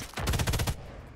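Rapid burst of automatic gunfire in the Sniper Elite 5 multiplayer video game, loud, close shots in quick succession, then a short tail of fading ambience.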